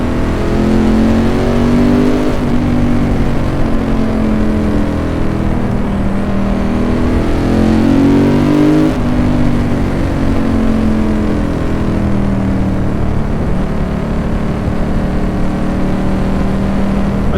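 A Ducati 916 motorcycle engine is loud and close, its pitch rising and falling through repeated revs and gear changes on an early-season ride, with no talking.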